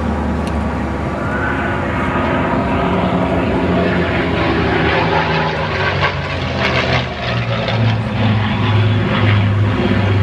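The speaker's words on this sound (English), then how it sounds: "Aircraft in the Mark 9." A Mark 9 propeller aircraft flies at an air show, its piston engine droning loud and steady throughout with a rough throaty tone that swells slightly toward the end, heard alone without talking.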